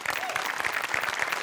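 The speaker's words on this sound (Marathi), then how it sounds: "आपल्या सगळ्या टीमसाठी आपणच एकदा टाळ्या वाजूया." A studio audience at a Marathi comedy show claps in a brief, dense burst of applause, close and lively, with a few voices mixed in.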